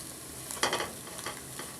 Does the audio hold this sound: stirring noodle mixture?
yes